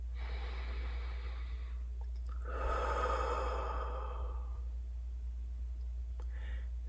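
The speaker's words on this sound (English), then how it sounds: "Take a deep breath." A single slow, deep breath during a calm relaxation exercise, heard as a soft airy inhale and exhale over a low steady hum, close and quiet, with faint clicks around it.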